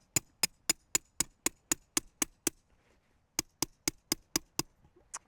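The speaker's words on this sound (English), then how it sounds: "Hammer down the rebar, just a few inches." Sharp metallic hammer strikes driving rebar into a garden bed in a steady rhythm, a run of about ten blows, a pause, then six more, close and loud.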